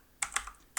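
Typing on a computer keyboard: three quick, close key clicks in under a second, with no talk.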